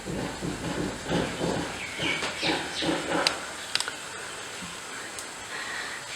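A gas stove burns on low flame under tomatoes and a green chili set to roast, giving a soft, steady hiss with a few faint clicks and taps, fairly quiet.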